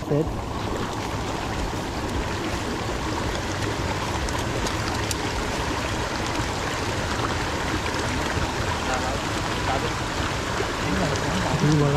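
Steady rushing of water flowing continuously through a narrow channel used for trapping fish in Konkan, even and unbroken throughout.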